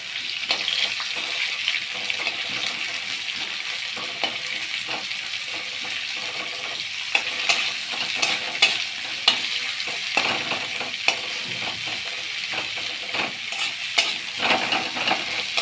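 Onions and green chillies frying in a pan for crab curry, a steady close sizzle with scattered clicks and scrapes of stirring throughout.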